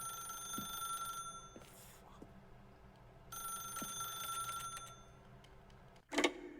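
A telephone rings inside the video game The Stanley Parable, its steady electronic tone repeating in two long bursts separated by a gap, with a sharp louder clatter near the end and faint background hum.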